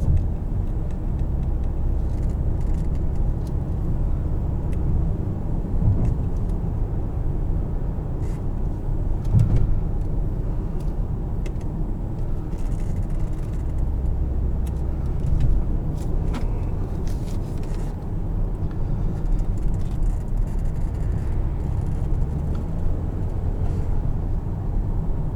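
Hushed cabin of a 2015 Mercedes-Benz ML350 on the move, a low, steady road and engine rumble with faint tire hiss, continuous and even throughout with no talking.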